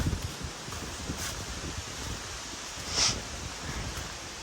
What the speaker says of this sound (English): Sorry about that wind, my dudes, if that's annoying.